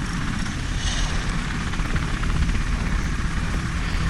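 Steady, loud rotor thrum of a helicopter from the strategy video game War Commander: Rogue Assault, continuing for several seconds with a constant throbbing engine drone and no voices.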